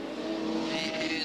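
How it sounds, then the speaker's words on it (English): Modified production race cars lap Murray Bridge Speedway, engines roaring steadily and close with a sustained, slightly rising drone and no talk over them. "but they're all chasing the number 55 of Peter Lack."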